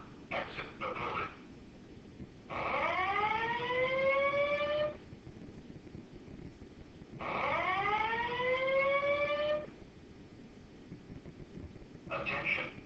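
A building fire alarm siren sounds in two long rising wails, each lasting a couple of seconds, with short bursts of another alert tone at the start and end, heard at a moderate distance.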